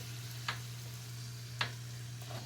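Spinach puris deep-frying in hot oil, a low steady bubbling sizzle with a constant hum underneath and two or three sharp splashes or clinks.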